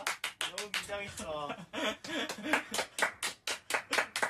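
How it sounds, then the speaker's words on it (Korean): Steady hand clapping in a quick, regular rhythm, close by, while people talk and laugh over it. "리더 형이 와서 박수를 치고 있네"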